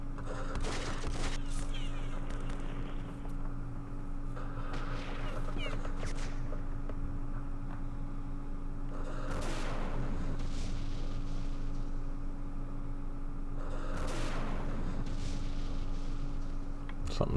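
Gunfire in a Middle East wargame battle involving up-armored M60 tanks, infantry, recoilless rifles and RPGs: repeated bursts of shots and blasts, several sharp loud cracks spaced apart over a steady background hum, with speech now and then.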